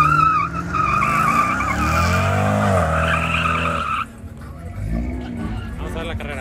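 Race car skidding at a motor race, a loud sustained tire squeal with shifting pitch over engine roar, cut off abruptly partway through, followed by quieter engine noise while people talk nearby.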